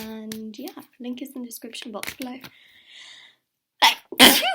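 A person talks, pauses briefly, then lets out two loud, sharp sneezes in quick succession.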